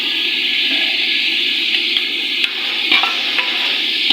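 Ginger-garlic paste fries in a pan with a loud, close, continuous sizzle, while stirring adds a few brief scrapes and clicks over the hiss.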